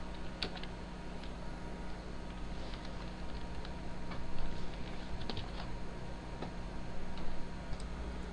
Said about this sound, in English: so you just need to type the username